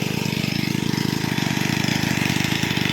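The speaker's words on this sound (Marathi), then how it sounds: "इकडे पाण्याचे मोटार आहे ते चालू केलेली आहे" An electric water pump motor in a Konkan village orchard runs loudly and steadily, with a fast, even mechanical pulsing hum close by.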